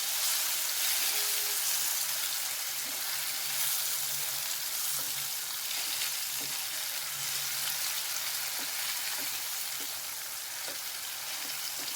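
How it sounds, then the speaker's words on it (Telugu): Grated raw mango fries in a pan for mango rice, giving a steady close sizzle and crackle with a few light stirring scrapes and no talk. "మామిడికాయ తురిమి ఫ్రై అవుతుంది"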